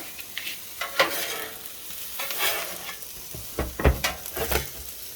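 Fried rice with soy sauce sizzles on a hot Blackstone griddle, with a steady fry hiss broken by several scraping, clattering spatula turns close by.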